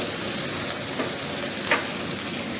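Turmeric frying in a pan of egg curry masala gives a steady, soft sizzle, with a couple of brief scraping stirs and no voices.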